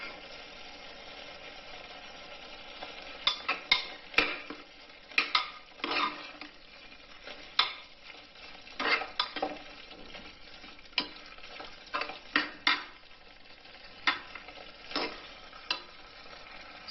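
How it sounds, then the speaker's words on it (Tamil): Mint and coriander are sautéed with yogurt in a pan for a yam biryani, with a soft steady sizzle under repeated scraping stirs of a spoon against the pan, close and irregular in rhythm. "இப்போ நம்ம எடுத்து வச்சுருக்க புதினா கொத்தமல்லி 2ஐயும் போட்டு நல்லா வதக்கிடலாம்."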